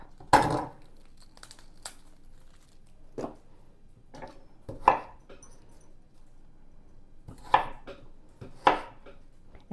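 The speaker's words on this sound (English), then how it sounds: "I'm going to go ahead and chop up a half of an onion." A freshly sharpened knife dices half an onion on a board, with a handful of crisp, separate chops spaced irregularly and close by, with quiet handling between strikes.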